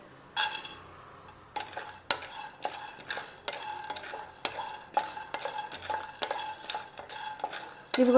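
Peanuts are stirred in a metal pan while frying for a masala curry, with a spoon scraping and knocking against the pan in steady repeated strokes, close and clear, over a faint sizzle and no speech.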